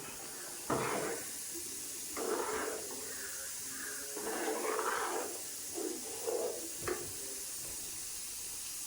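Beaten curd poured into a simmering mango curry produces several short, splashy hissing bursts with quiet pauses between them.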